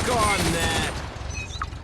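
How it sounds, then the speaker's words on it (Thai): Rapid gunfire in the zombie shooter Unkilled, a loud burst of quick shots at the start that fades into softer mechanical clicks and a faint metallic ping, as if reloading. "ยิงกันรัวๆรีโหลดแป๊บหนึ่ง"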